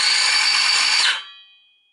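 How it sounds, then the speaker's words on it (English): An Excel 18V cordless 165mm circular saw, model 11753, whines loudly at full speed for about a second, then the electric brake pulls the blade down fast and its pitch falls into a brief fading ring. "So it's got an electric brake, you can hear how quickly it stops the blade."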